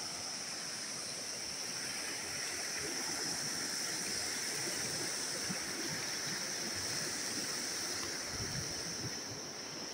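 A river in Sankhuwasabha's Makalu area, at a confluence amid landslide debris, flows with a continuous, even rushing roar that stays steady throughout at moderate distance.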